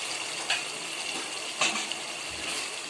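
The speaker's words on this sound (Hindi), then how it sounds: "अभी हम इसमें पानी डालेंगे।" Water pours into a cooking spiced curry masala gravy, a continuous soft gushing splash with a couple of louder sloshes, fairly quiet and without talking.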